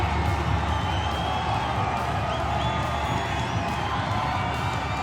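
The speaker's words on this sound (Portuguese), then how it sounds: "Olha o som da torcida vibrando." A football crowd cheers in the stands of the Brinco de Ouro stadium, a steady, dense roar of many voices with occasional whoops that runs unbroken from start to end.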